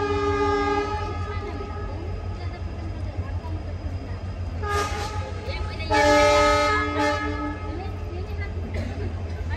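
Sirsa Express train pulling out of a small two-platform station on the Bhiwani–Rewari–Delhi route, with a steady low rumble and long, loud horn blasts sounding near the middle.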